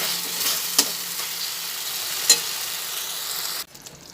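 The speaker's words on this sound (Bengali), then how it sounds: "আগে আলুটা দিয়ে ভালোভাবে মশলার মধ্যে আলুটা মাখিয়ে নিয়ে ভেজে নিচ্ছি" Potatoes fry in a spice paste with a steady close sizzle, with a couple of sharp spatula knocks against the pan while they are stirred for an unripe jackfruit korma, before the frying sound cuts off abruptly near the end.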